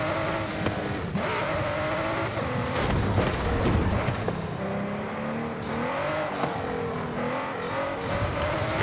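Engine of a car in the Forza racing game cruising toward the finish line of a night carpark, garage and drag event, a steady sustained drone with shifting pitch and no talk over it.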